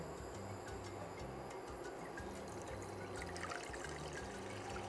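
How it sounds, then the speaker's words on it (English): Water pours steadily into a pot while making sorrel pepper jelly, a continuous soft splashing trickle heard close and at moderate level. "So we're going to start with adding some water."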